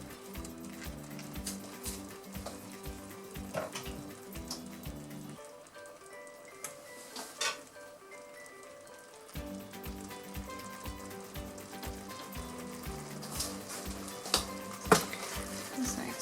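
Minced meat and tomato puree sizzle steadily in a hot pan, with a rhythmic scraping of stirring throughout and a brief quieter pause midway.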